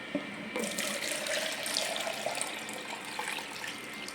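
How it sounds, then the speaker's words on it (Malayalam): One litre of water pours into another vessel in a steady, close gushing splash that starts abruptly and runs continuously for a few seconds, alone without speech. "1 ലിറ്റർ വെള്ളം വേറൊരു പാത്രത്തിലേക്ക് എടുക്കാം"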